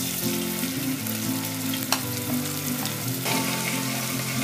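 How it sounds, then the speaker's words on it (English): Chopped green chilies and ginger garlic paste frying in hot oil, a loud, steady close sizzle with a faint tap of a spoon partway through and no talking. "In this heated oil add around 2 green chilies which I have chopped and a tablespoon of ginger and garlic paste."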